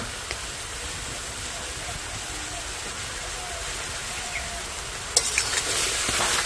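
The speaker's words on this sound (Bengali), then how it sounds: "এইভাবেই নাড়তে থাকবো আস্তে আস্তে" Tomatoes cooking in a pan for homemade tomato ketchup, a steady loud sizzle and bubbling hiss throughout with faint scraping of stirring, getting busier near the end.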